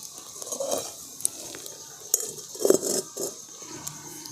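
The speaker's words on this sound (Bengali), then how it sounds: "পরে কড়াটা বসিয়ে দিচ্ছি" A kadai (wok) set on a lit stove burner for making sugar syrup, giving a few soft metallic clunks and clinks against a quiet kitchen background.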